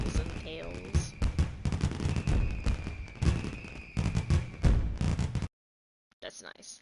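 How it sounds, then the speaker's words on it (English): In the video game Sonic Superstars, fireworks burst in Sonic character shapes, a dense rapid crackle of booms and pops building for several seconds before cutting to silence, then a brief menu sound. "I love the firework shapes of Sonic, Amy, Knuckles, and Tails."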